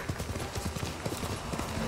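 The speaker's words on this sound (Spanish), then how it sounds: "Está mi caballo." Rapid, rhythmic clip-clop of horse hooves trotting at a steady pace in the game Ghost of Tsushima, close and moderately loud.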